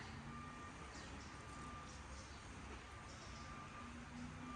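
Trucks idle and rumble nearby outdoors while a faint, steady reversing beep repeats over the low engine noise; the whole scene is quiet and distant-sounding.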